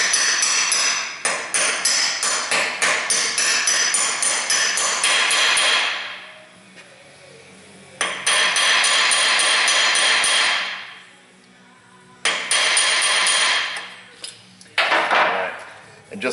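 Hammer tapping a socket to seat a transfer case input seal on a Ford F150, in dense bursts of sharp metallic strikes separated by pauses, loud and close, with no voices.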